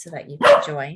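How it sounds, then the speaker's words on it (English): A pet dog barks once, close and loud, with a short yelp cutting across a woman's speech in a home setting. "That's my dog."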